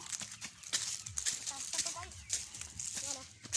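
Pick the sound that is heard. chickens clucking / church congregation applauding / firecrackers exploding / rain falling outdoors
chickens clucking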